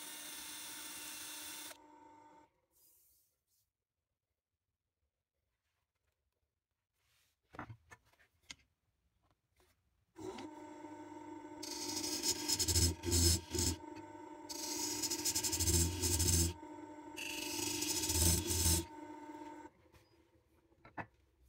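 Sanding a turned wild olive and resin piece on a lathe, moving from 180 up to 400 grit, comes through as a whirring, droning hum in several bursts separated by quiet pauses.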